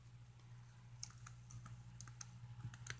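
Quick, irregular clicks of keys being typed on a computer keyboard, faint and close, over a steady low electrical hum.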